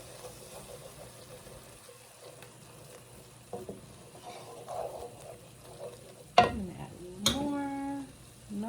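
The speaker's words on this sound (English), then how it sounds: "Stir it, and we're gonna get a roux going." Flour being stirred into cooking garlic and onion for a mac and cheese roux: a soft, quiet sizzle with scattered scrapes of the spoon, then a couple of sharper clatters and a brief voice near the end.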